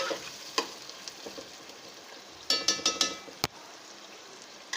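Sliced onions sizzling and frying in a pan over high heat, a steady hiss with a few louder stirring scrapes and clinks midway, close and alone without voices.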